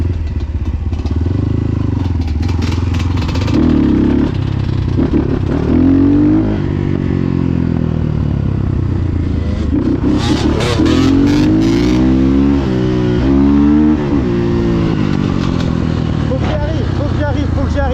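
A dirt bike engine revs and pulls hard during wheelie practice on a legal paved spot, loud and close with rising and falling throttle surges, and a rider's voice occasionally over the engine.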